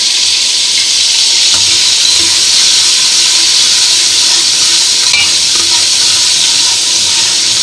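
Four medium tomatoes hit about 1.5 spoons of hot oil in a pan for a potato dish, giving a loud, steady, close-up hissing sizzle that barely changes over several seconds.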